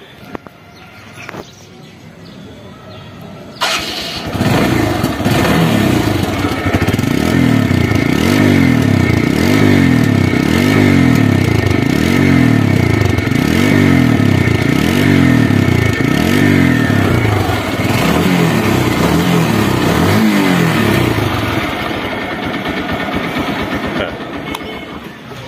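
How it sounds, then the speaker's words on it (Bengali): A 2021 TVS Stryker motorcycle starts after a few seconds, then idles with a loud, steady, throbbing engine note and some revving, close by, fading slightly near the end. "তো এখন সাউন্ড কোয়ালিটি শোনাবো গাড়িটি,"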